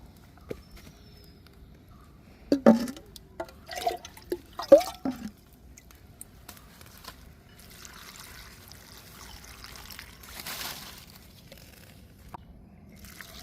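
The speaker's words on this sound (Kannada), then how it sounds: "ಒಂತೆ ನೀರು ಮೈಪೂಡು" A little water goes into a Malabar spinach and prawn curry in a home kitchen: faint drips and splashes, a few sharper ones near the start, then a soft low trickle in a quiet room.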